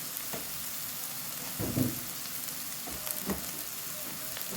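Meat sizzling in a pan with onions, a steady close crackle and hiss with a few louder pops as pieces settle into the hot oil.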